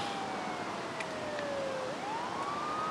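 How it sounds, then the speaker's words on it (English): An ambulance siren wails steadily with a slow falling then rising pitch over a constant background roar, fairly loud and close. "That'll be the ambulance."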